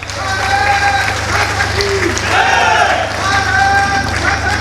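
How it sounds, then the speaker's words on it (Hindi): Crowd applause breaks out for a subsidy beneficiary at a public event in Delhi, a steady, loud wash of clapping held for several seconds, with voices talking over it. "जोरदार तालियां"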